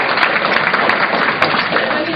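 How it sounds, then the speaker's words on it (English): Studio audience applause, a dense steady wash of many hands clapping at close range, continuing evenly throughout. "It's okay to applaud."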